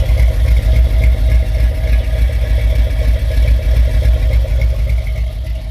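A cammed OBS-era GMC Sierra idles through a dual Flowmaster 40 series exhaust with dumps, a deep, loping rumble that pulses steadily and loudly for several seconds with no talking.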